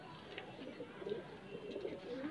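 Soft, low cooing from white Kaldum pigeons, a continuous murmuring burble close by with faint background noise and no talking.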